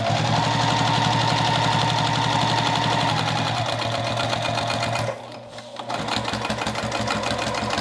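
A sewing machine stitches steadily along a seam of a denim tote bag made from old jeans, its rapid needle chatter loud and close, running without pause before slowing and dipping briefly near the end.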